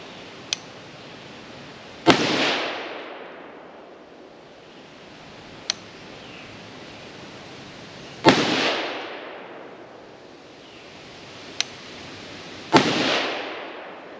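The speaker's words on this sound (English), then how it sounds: "Okay, that's our 6 shots." Shots from an AR-10 rifle in .308 firing Federal Gold Medal Match ammunition at a range: three loud cracks spaced several seconds apart, each with a trailing echo, plus fainter sharp clicks between them.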